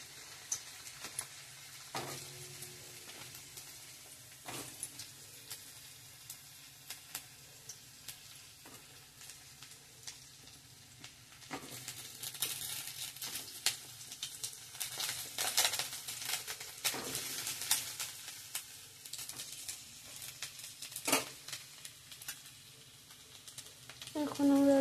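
Potatoes frying in hot oil in a kadai, giving a steady soft sizzle with occasional stirring scrapes, close and low in level, with the crackle swelling midway.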